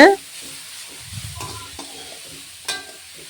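Chili powder sizzles in hot oil in a frying pan while tempering for a beetroot stir-fry, with a spoon scraping and a couple of sharp clinks nearby.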